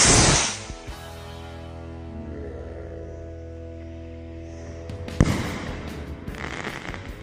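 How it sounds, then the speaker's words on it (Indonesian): Rocket King Jumbo firework rocket bursting: a sharp blast followed by a long ringing, crackling decay, then a second loud crack with sizzling fizz trailing off, heard at a distance outdoors. "selanjutnya kita nyalain mercon Rocket King Jumbo"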